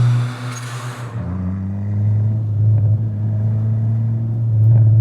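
A 400 hp turbocharged B18C engine in a front-wheel-drive EK Civic hatch idles with a deep, loud, steady rumble, close by, after a brief burst of higher noise at the start, with no talking.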